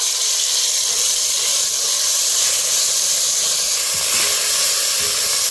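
Mustard seeds, cumin and stone-ground masala go into a ladleful of hot oil for a tempering. A loud, continuous hissing sizzle holds steady throughout, close to the pan, with no voices.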